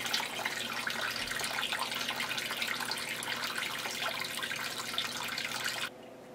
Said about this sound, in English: Get a backwash that'll help fill that back up.